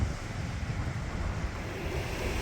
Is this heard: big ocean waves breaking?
yes